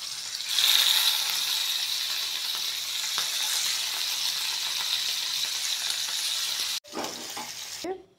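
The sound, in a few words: hilsa fish frying in hot oil on a tawa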